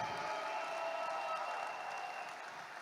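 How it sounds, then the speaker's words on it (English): Audience applause for leaders at a leadership training session, a steady, fairly faint wash of clapping that holds evenly throughout with no voices on top. "Can we give our Reway leaders a round of applause today?"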